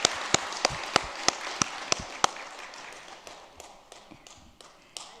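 An audience at a church prayer seminar in Korea applauds: a series of crisp, evenly spaced claps that thin out and fade into scattered taps.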